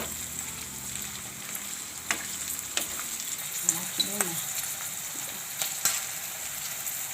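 Carrots and peas sauté in oil in a pan for a Gujarati vegetable dish, a steady soft sizzle with a few light clicks from stirring and no voices.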